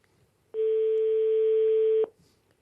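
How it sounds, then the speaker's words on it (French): A single long steady telephone tone, likely a phone ringing on a call to a home in Plogastel-Saint-Germain, Finistère, sounds once for about a second and a half, loud and clean against a quiet background. "Et la sonnerie de Mme Glémarec, Elena"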